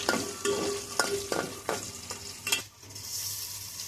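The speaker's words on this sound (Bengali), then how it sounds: "কিশমিশগুলো প্রায় ভাজা ভাজা হয়ে আসছে।" Raisins fry in oil with cardamom and cinnamon in a small pot, a close sizzle broken by rhythmic scraping strokes of a stirring spoon, about one every half second.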